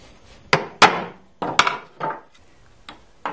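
Hammer driving a nail into a wooden beehive frame: six or seven sharp, close wooden knocks in an irregular rhythm, each decaying quickly, with quiet pauses between and no talk.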